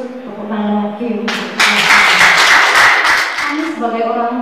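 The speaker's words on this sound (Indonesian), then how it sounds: "Tepuk tangan lagi." Applause at a school graduation send-off ceremony rises as a dense burst of clapping from an audience, heard in the middle while someone speaks before and after it over a microphone.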